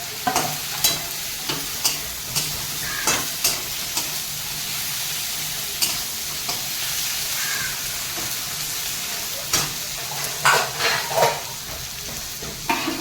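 Chicken feet fry with onion, tomato and ground spices in a pan, a continuous loud sizzle broken by repeated scraping stir strokes at an uneven rhythm.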